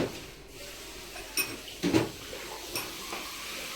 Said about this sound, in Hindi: पर इधर बर्तन हर्तन धो रही है भाई